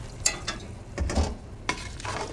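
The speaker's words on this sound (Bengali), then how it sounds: "গরম পানি দিয়েছি" Hot water poured into a pot of fried chicken biryani ingredients, giving a brief burst of sizzling and bubbling with a stir or two, close and short.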